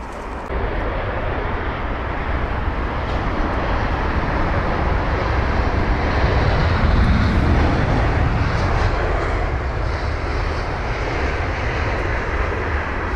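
British Airways Airbus A321 arriving at London Heathrow from Stockholm, a continuous loud jet-engine roar that swells slightly midway and carries steadily throughout, with no one speaking.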